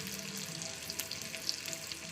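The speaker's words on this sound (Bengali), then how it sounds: "পেঁয়াজটা ভাজা হয়ে যায়" Steady oil sizzle and crackle of onions frying in a pan, with faint pops and light stirring scrapes throughout.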